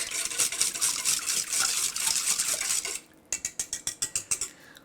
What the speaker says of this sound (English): We'll give that a whisk.